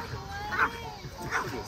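A small dog at a garden shop gives two short yips about a second apart, soft and somewhat distant against a background murmur of people talking.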